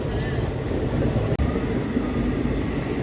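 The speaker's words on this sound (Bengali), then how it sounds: "ফালাকাটা ছেড়ে আমাদের ট্রেন এই বেরোলো।" The Kanchanjangha Express rumbles steadily along the rails at night after leaving Falakata, a continuous low roar with faint rattling, heard from inside a carriage.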